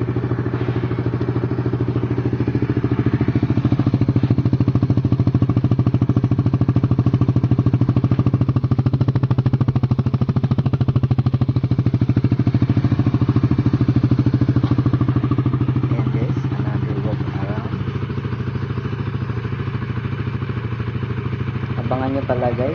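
A new motorcycle's engine runs steadily throughout, with a low droning idle and some clatter, rising slightly in the middle then settling, close and loud with faint talk beneath.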